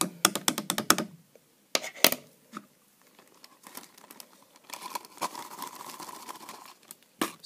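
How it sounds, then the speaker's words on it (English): Plastic bag holding homemade casein glue being pressed shut and sealed, faint close crinkling and a quick run of small clicks and rustles, with short pauses between handling sounds. "So I'm just going to seal it to prevent any evaporation."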